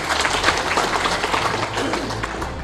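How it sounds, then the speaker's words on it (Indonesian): Crowd applause for Ibu Megawati at a PDI Perjuangan party gathering, a loud continuous burst of clapping from a large audience. "Tepuk tangan untuk Ibu Megawati."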